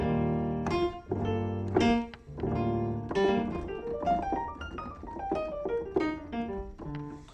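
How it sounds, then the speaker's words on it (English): A dry, unprocessed Native Instruments The Giant sampled piano plays a sequence of sustained chords, some rolled, at a slow, relaxed pace with no voice. "the piano sound is nothing but the Giant from Native Instruments"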